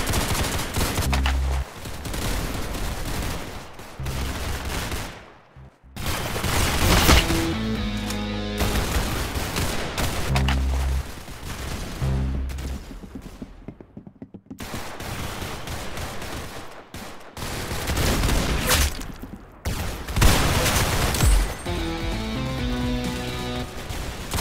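Rapid bursts of gunfire from a Roblox shooting game, dense automatic volleys repeating loudly across the whole stretch with a few brief gaps between strings of shots.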